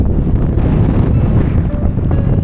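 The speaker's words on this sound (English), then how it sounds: "Windy up here on the top of the rock." Strong, steady wind roars and buffets the microphone without a break on a rocky hilltop in Athens, a loud gusty rush filling the whole moment outdoors.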